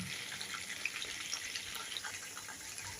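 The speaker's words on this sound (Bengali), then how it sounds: "দেখুন বন্ধুরা, কেমন সুন্দর ভাজা হচ্ছে।" Soft, even bubbling hiss of soya chunks frying in oil, fairly quiet and continuous, with tiny pops scattered through.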